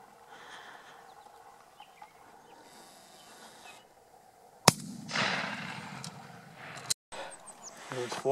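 Gunshot while turkey hunting for a gobbler in the woods: one sharp, loud crack cuts through quiet outdoor ambience, followed by rustling movement and a brief dropout, with low talk around it.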